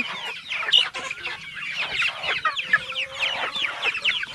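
Guinea fowl and their chicks keep up a continuous, busy chatter of clucks and high chirps close by, overlapping calls filling the whole stretch without pause.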